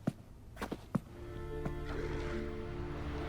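A horse in The Witcher 3 lets out a drawn-out, wavering whinny that rises from a few dull thuds and carries steadily at moderate volume against soft ambient game sound.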